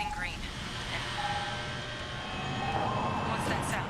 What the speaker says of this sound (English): What's that sound? That's the chopper, don't worry about it.